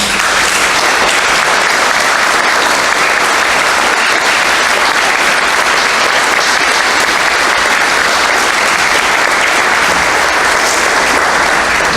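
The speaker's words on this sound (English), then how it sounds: "you can all give these people a round of applause now" A forum audience gives a sustained, loud round of applause, with dense clapping steady throughout.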